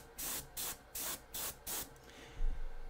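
An airbrush sprays primer onto a miniature ogre model in five even bursts of bright hiss, each lasting about a quarter second with short gaps, followed by a low thump.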